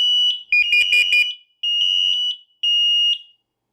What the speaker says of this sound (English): All the alarms shall flash and beep for 10 seconds.